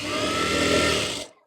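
A sewing machine stitching blouse fabric, a close, steady whirring run of the needle lasting about a second before it stops abruptly.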